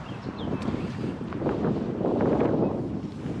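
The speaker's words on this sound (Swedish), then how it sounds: "Nu blåser det vid vattnet. Kommer in vind från vattnet där." Wind buffets and roars across the microphone in a constant low rush, blowing in off the water beside a former factory turned playground in Borås, with a faint splash of water and no voices.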